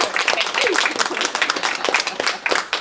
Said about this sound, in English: Can we please give Baroness Bennett a really big round of applause?